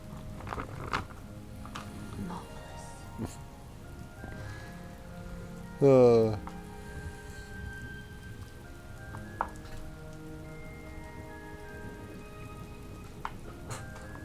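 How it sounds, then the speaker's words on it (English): Rain falls in the video game Hogwarts Legacy, a soft, steady patter under the game's ambience, with a brief chime-like rising effect partway through and no clear talk. "You're being rained on."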